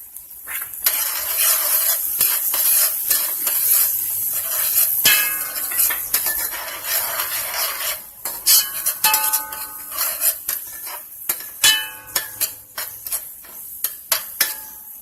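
Zucchini pasta being stirred together with walnut mock meat, a steady run of scraping and clattering utensil sounds with sharper knocks toward the end, close and fairly loud with no talking.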